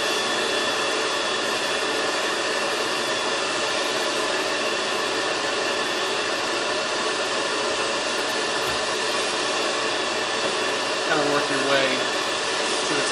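Omega Supreme Plus HEPA compact vacuum cleaner running steadily, a loud continuous motor whine and airflow roar close by, with a brief shift in tone near the end.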